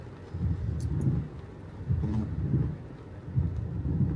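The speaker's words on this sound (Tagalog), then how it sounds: "The rain is heavy." Heavy rain pours outside an Asian grocery, a dense steady low roar with slight surges, close and continuous with no talking.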